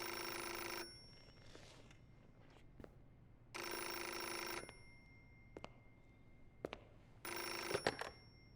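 A telephone rings in the Metal Gear Solid: Portable Ops video game, three loud electronic ring bursts spaced a few seconds apart, with soft game sounds and faint clicks between them.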